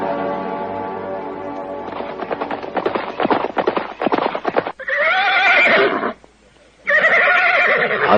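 A horse neighs loudly and close in a long, quavering whinny, followed by a rapid rattle of hooves and two further shrill neighs separated by a short pause.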